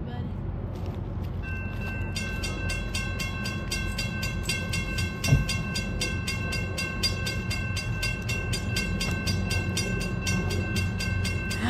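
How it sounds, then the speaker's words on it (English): A fast freight grain train rumbles past close by in Senoia, steady and loud, with rhythmic wheel clatter and a sustained horn-like tone over the passing cars. "Oh, that train's coming fast."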